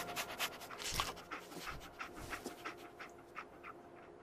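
Dog panting in the video game Fallout 4, a steady run of quick breathy pants from a close companion dog, lasting throughout with no talk over it.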